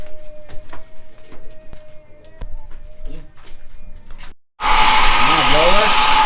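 A pet blower drying a dog starts up abruptly after quiet background sounds and some speech, then roars on as a loud, steady, close whooshing of air.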